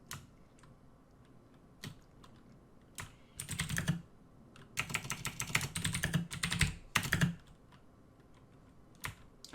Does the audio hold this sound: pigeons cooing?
no